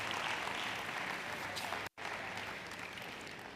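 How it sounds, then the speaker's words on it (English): Steady applause from a conference audience at an open source community event fills the room, dense and continuous, broken by a brief dropout near the middle before the clapping resumes at the same level. "Clap for yourself"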